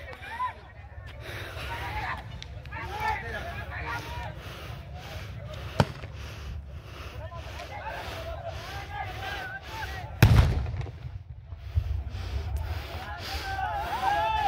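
Gunshots are fired at unarmed farmers near the Khanauri border: a sharp, loud bang stands out against steady outdoor crowd noise and agitated talking, with a smaller crack earlier and a duller thud shortly after.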